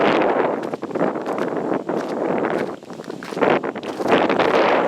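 Gusty wind blows across the Riverside Bridge among autumn trees, buffeting the microphone with a steady, loud rushing roar that swells and dips for several seconds, with no voices.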